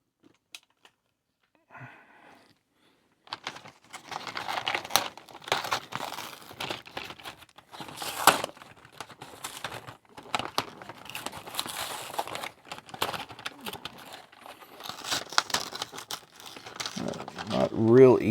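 Plastic packaging on a Mega Construx Masters of the Universe toy box crinkling and crackling as it is peeled open by hand, close and continuous for many seconds, with some rustling pauses.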